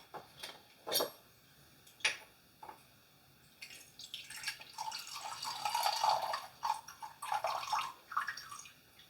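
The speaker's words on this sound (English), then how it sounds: "I like to give my Manhattans 20 stirs anti-clockwise." Ice clinks and rattles as a Manhattan made with Woodford Reserve Double Oaked whiskey is stirred in a glass. Sharp knocks come first, then a continuous swirling, jingling stir, close and moderately quiet.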